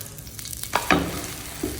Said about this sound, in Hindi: ऐसे ऊपर इसके थोड़ा सा डालेंगे हम घी, देसी घी ऊपर। अब इसको मैं कर लूंगा कल्टी